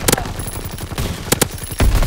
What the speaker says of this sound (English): I used my whole clip on that guy